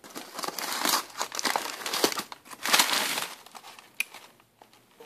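Newspaper packing paper pulled from a box of reloading supplies crinkles and crumples in close, busy bursts, rustling steadily with brief pauses and a few sharper crackles toward the end.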